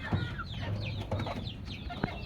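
Caged desi chickens cluck repeatedly in a steady, busy chatter, several birds close by with overlapping calls and no voices.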